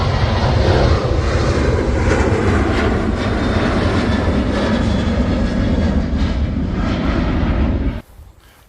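A fixed-wing airplane passes low overhead near Newcastle Airport, its engine roar loud and steady for about eight seconds before cutting off sharply, heard from a bush beside the airfield.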